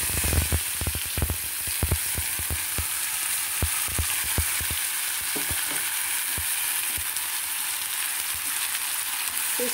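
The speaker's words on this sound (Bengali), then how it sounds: "এবার এই পুরো পেস্টটা আমি এখানে দিয়ে দেবো।" Spinach, mint, coriander, ginger, onion, garlic and green chilli paste sizzling in hot oil for paneer Hyderabadi, with a steady frying hiss and a run of sharp spoon-against-pan clatters as it is stirred, fading to continuous sizzle alone.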